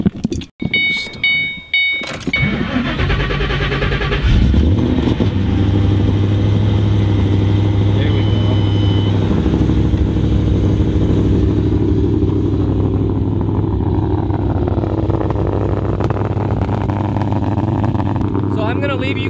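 A car engine cranks and catches after a jump start, opening with a few clunks, then a sustained steady idle that runs close and loud for the rest of the stretch.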